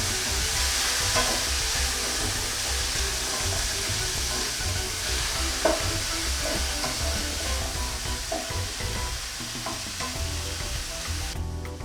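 Chopped mint leaves and biryani masala ingredients fry together in a pan, giving a continuous dense sizzle with occasional stirring clicks, fairly loud and close.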